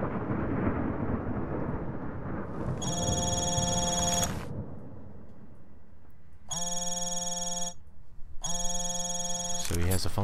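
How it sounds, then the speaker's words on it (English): Telephone ringing in the video game Hitman: Absolution: three loud bursts of a harmonic electronic ring separated by pauses, over a low rumbling storm-like game ambience. "A phone call."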